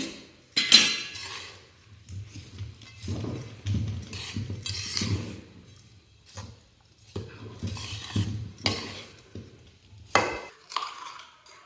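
Cashews and almonds are stirred together for wheat flour ladoo, producing quiet intermittent spoon scrapes and clinks against a bowl or pan in short bursts separated by brief pauses.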